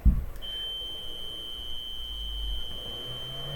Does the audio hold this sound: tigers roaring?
no